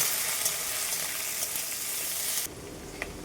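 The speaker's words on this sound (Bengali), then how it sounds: "কুচিয়ে রাখা আলু আর লঙ্কা এইবারে হালকা আছে লাল লাল করে একটু ভেজে নেব" Chopped potatoes and chillies fry in hot oil for an egg and bhindi dish, making a dense, bright sizzle that drops to a softer hiss partway through, then a single small clink near the end.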